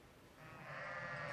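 A sheep from a wool-producing flock in rural Montana bleats in one sustained, fairly loud call that swells toward the end, with no voices.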